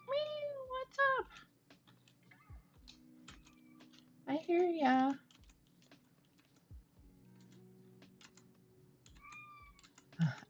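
A pet cat named Waffle meows several times, close by, with short rising calls spread across the moment, amid keyboard typing and clicking and a brief spoken remark.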